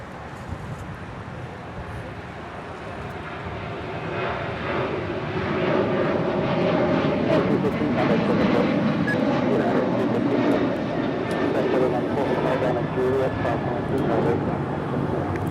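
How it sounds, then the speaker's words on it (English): A United Airlines Boeing 737-900ER departs Los Angeles International Airport for Chicago O'Hare, its jet roar building steadily from a distant rumble to a loud sustained thunder, with some voices faintly in the background. "That is United Airlines 215 departing to Chicago O'Hare on a 737-900 ER."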